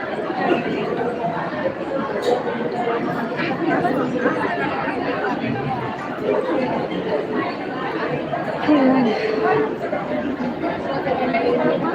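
Dense crowd chatter during darshan at Ranjangaon Ganpati temple, many overlapping voices murmuring steadily throughout, with nearby people speaking over the hubbub.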